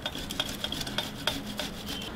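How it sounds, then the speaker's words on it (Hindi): Boiled potatoes are rubbed against a grater in quick repeated strokes, each a soft raspy scrape at close range, with no talking. "अब हम आलू को कद्दूकस कर लेते हैं ताकि आलू में कोई भी गांठ ना हो।"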